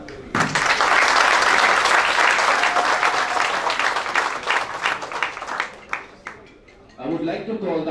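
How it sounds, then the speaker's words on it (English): Applause at a company party event honoring the housekeeping staff, full crowd clapping that peaks early, tapers off over several seconds, and gives way to a voice over the microphone. "could you please give a huge round of applause for our housekeeping staff?"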